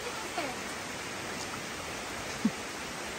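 Rain falling outdoors, a steady broadband hiss of drops at an even level, with a couple of brief nearby knocks.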